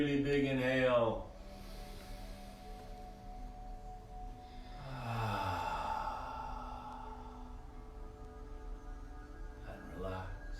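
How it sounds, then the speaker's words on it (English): A deep cleansing breath during gentle yoga: a long audible inhale through the nose and a slow exhale, close and soft, over a faint background. "we begin with a deep cleansing breath in through your nose"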